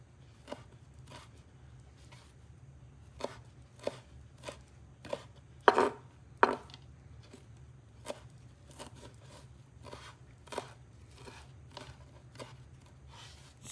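A knife chops guacamole ingredients on a board in quiet, sharp taps, about fifteen strikes in an uneven rhythm with a couple of louder hits in the middle, close but faint.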